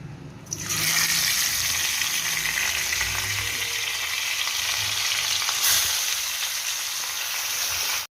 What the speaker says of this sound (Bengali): তেলটা প্রায় গরম হয়ে গিয়েছে এবার আমি এর মধ্যে মাছগুলো একে একে সব দিয়ে দেবো